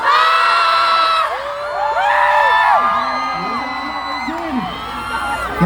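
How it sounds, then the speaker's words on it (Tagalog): A large crowd yells a short phrase in unison, then breaks into whooping cheers and shouts, many voices including children overlapping loudly and continuously. "sabay-sabay tayo sumigaw ng Thank you, Wish Boss"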